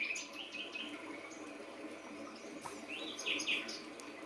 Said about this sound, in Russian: А это птичка.